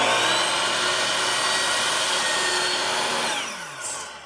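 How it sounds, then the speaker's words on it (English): A shop vacuum hooked to a hose roars loudly and steadily with a whining airflow tone, then winds down and fades near the end, with no talking. "Again, the vacuum."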